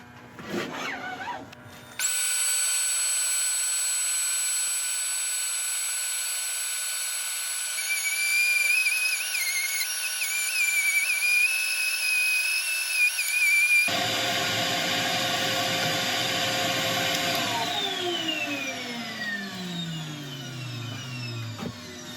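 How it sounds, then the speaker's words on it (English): A steady, loud whir of a lathe with a high tonal whine, shifting pitch midway as sandpaper presses against a turning spalted sycamore bowl. "time for sanding"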